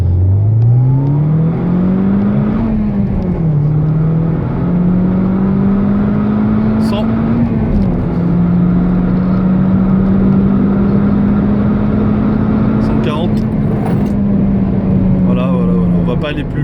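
A Peugeot 207 RC car engine climbs from around 3000 rpm, its rising whine and roar holding through the gears from inside the cabin, with someone speaking French over it.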